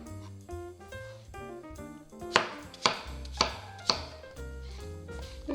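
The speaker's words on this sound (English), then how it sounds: "we're going to go ahead and simply cut them into small, thin, bite-sized pieces that are about 3/8, half an inch thick" A knife cutting apples into thin bite-sized pieces on a board, four distinct sharp chops at a fairly even pace, sitting under soft background music, with no one speaking.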